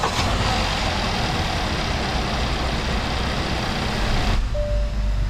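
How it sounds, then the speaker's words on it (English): A 2017 Hyundai Sonata 2.4 engine cranks and runs with a loud, steady roar close by that cuts off abruptly near the end, leaving a faint whine. "Starting the engine."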